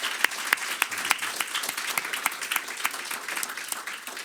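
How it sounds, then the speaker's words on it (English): A small audience at a panel discussion on secondary sanctions and international law gives the panel a round of applause, sparse distinct hand claps forming a light, moderately quiet patter without talk. "I'd like to invite you to give a round of applause for the second panel"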